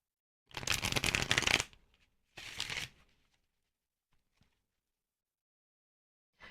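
Tarot cards shuffled close up in two quick riffling bursts, the first longer and louder, followed by near silence with a couple of faint taps.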